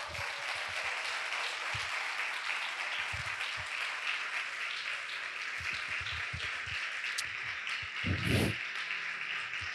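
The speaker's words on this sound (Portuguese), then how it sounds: "Aplauda o nome de Jesus." A church congregation applauds during a service, a steady wash of clapping with scattered louder claps and low thumps, moderately loud and continuing without speech throughout.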